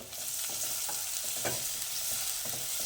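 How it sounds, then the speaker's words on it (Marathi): Finely chopped green chillies sizzle in hot oil with crackling cumin seeds, a dense, steady frying hiss with soft stirring strokes and small pops, close and continuous. "जिरे व्यवस्थित तडतडायला लागले की त्याच्यामध्ये बारीक चिरलेली मिरची घालून घ्यायची आहे"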